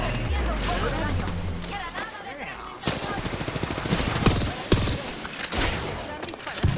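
Rapid bursts of gunfire from enemy fighters in a shooter video game, dense and continuous with sharp cracks throughout, clearly audible beneath layered game sound effects.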